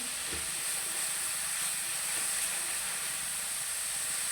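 Onion and garlic fry in a hot pan for a spicy Bengali chicken bhuna, giving a steady loud sizzling hiss throughout with no talk.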